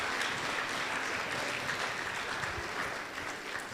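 A church congregation applauds during an anniversary service, producing a dense, even wash of clapping that sounds somewhat distant and reverberant, steady from start to finish.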